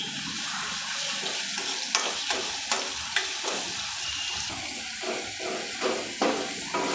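Oil sizzles steadily as garlic fries in a pan, with repeated scraping clicks of a spoon stirring at an irregular rhythm.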